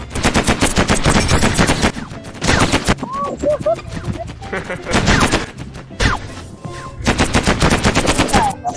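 Rapid automatic gunfire from a Mini World Block Art space war map battle, loud bursts of machine-gun fire in several volleys separated by short gaps, with quieter game sounds between bursts.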